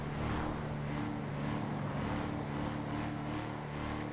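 A car engine revs hard in a reckless driving video game featuring a drifting sleeper car, producing a loud, steady, close engine drone that holds for the whole stretch with no talk.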